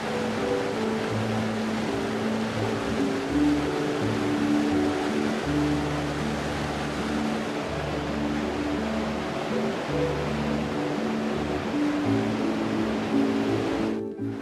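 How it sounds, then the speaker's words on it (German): The Ohe, a Bavarian Forest mountain stream swollen by spring snowmelt, rushes through the Buchberger Leite gorge in a steady, loud roar of water that fills the whole stretch without any voices. "verwandelt sich die sonst ruhig fließende Ohe in einen reißenden Bach"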